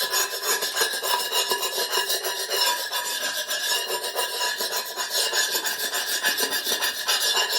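Rapid rhythmic scraping rasps as glaze is scraped off a hard ceramic kiln shelf, close and steady, repeating strokes with no talking.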